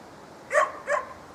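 A dog at the kennels gives two short barks close by, evenly spaced about half a second apart, over a quiet outdoor background with no talking.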